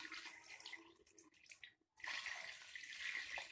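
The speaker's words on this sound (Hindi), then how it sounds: "हम इसके अंदर पानी ऐड करने लगे" Water poured into a cooking pot of chicken and lentils for daal chawal, a close, bright splashing stream with a short pause before pouring resumes steadily.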